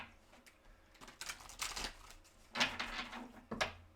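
Tarot advice cards are shuffled in a few soft bursts of crisp papery riffling and slapping, close and fairly quiet, with no talking.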